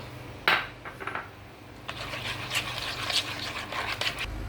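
Grated carrot being folded into cake batter in a bowl: soft, wet scraping and knocking of a spoon against the bowl in uneven strokes, close and moderately quiet.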